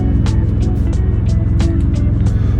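A car's engine roars loudly and steadily with a deep, rumbling exhaust through a burst silencer, driven over a rough, potholed road on a long Kashmir-to-Delhi trip. Sharp clattering knocks break through the drone every fraction of a second.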